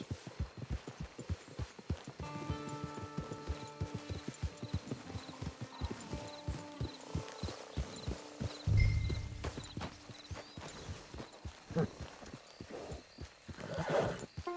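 Steady clip-clop of horse hooves trotting close by in the video game Red Dead Redemption 2, with a horse whinnying partway through and a faint hum underneath.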